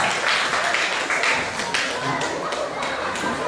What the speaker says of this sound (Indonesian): tepuk tangan untuk Luka